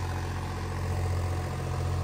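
A John Deere 5038 D turbo tractor engine idles steadily, a loud, continuous low rumble with no breaks or talk.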